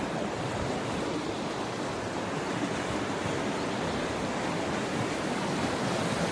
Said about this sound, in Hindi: इस दरिया की आवाज़ बहुत खूबसूरत है, मदहोश कर देने वाली है